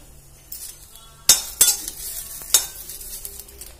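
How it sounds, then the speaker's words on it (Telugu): Green chilies frying in a pan, a soft sizzle under a few sharp metallic clinks and scrapes of a spatula against the pan, close and otherwise quiet. "చూడండి, మిరపకాయలు అయితే ఇట్లా వేగాలన్నమాట."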